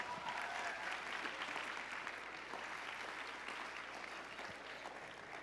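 An audience at a charity auction applauds steadily, a dense and even wash of clapping from a room full of people that holds at the same level throughout.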